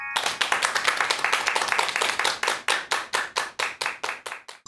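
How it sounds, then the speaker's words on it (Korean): A lecture audience claps steadily and quickly, the applause dense at first and then thinning into distinct rhythmic claps near the end, with no talking. "여러분 큰 박수 부탁드립니다."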